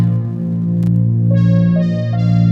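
A Casio CZ-01 phase distortion synthesizer, played over MIDI through a reverb effect, holds a rich, sustained chord, bright higher notes entering partway through and a short click in between.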